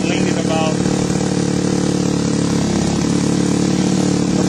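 A small engine runs continuously during a tuning session, a loud steady buzzing drone with even pitch and constant level throughout.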